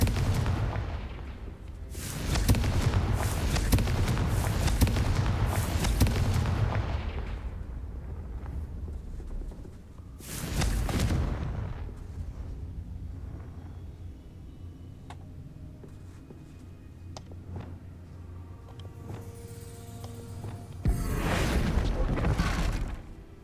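Fiery blasts of the Confringo explosive spell in Hogwarts Legacy boom out in three loud bursts, the first a long rumbling barrage, with quieter crackling and game ambience between them.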